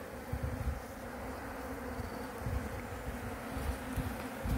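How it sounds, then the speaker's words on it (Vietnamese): A honeybee colony hums at its hive among comb frames heavy with honey and brood, a dense, steady, close buzzing drone that carries on unbroken with no talk over it. "chúng ta sẽ xem một cái đàn ong"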